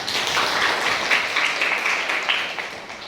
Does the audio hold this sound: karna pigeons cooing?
no